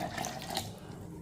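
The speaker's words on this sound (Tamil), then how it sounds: "தண்ணி ஊற்றிக்கிடுவோம்." Water pours steadily into a mixer jar while a weight loss drink is being made, a short, close splashing stream lasting about a second with no voices.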